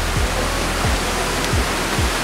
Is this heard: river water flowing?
yes